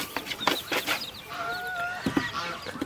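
A white hen clucks among her chicks, with soft repeated clucks and thin high peeping cheeps close by, in a brief busy chorus of farmyard fowl.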